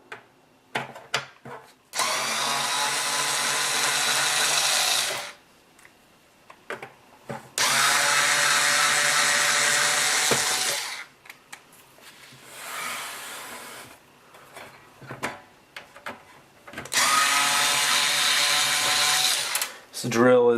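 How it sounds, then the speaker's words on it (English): A small, cheap 4.8 volt cordless drill backs screws out of an old Nintendo NES console's shield in three loud bursts of whirring, separated by clicks, handling noise and brief talk. "For this, I'll actually try the cordless drill."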